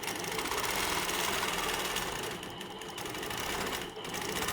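Sewing machine stitching steadily through free motion quilting of a feathered wreath, a continuous close, loud motor hum and rapid needle chatter with two brief slowdowns.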